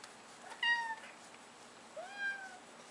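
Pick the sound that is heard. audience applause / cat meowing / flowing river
cat meowing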